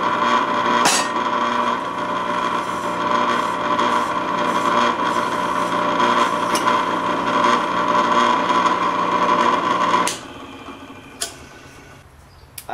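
Electric drill boring a hole in the housing of a homemade infrared light, a steady loud whining motor drone with a strong tonal hum for about ten seconds, then cutting off, followed by a few faint clicks and handling noises.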